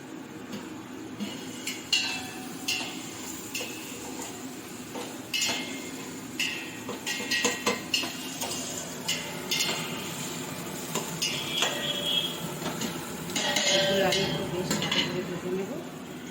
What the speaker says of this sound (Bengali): চাপা তুলে তুলে নেড়ে ফেলে ভালো করে লাল করে পেঁয়াজগুলো ভেজে নেব